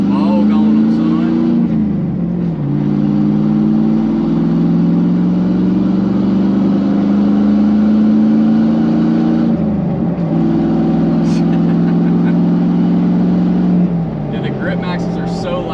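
A truck engine revs and drones loudly and close, its pitch climbing through long pulls and dropping back between them, with protruding exhaust tips adding to the roar and sustained throughout.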